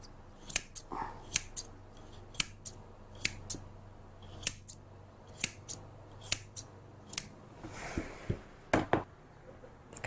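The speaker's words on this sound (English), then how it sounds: "I'm gonna go ahead and trim up the front of his beard with my straight scissors" Straight scissors trim a Havanese dog's beard in sharp, crisp clicks, about a dozen cuts spaced irregularly, close and clear over a quiet background hum.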